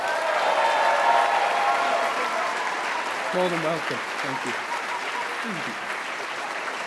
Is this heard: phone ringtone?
no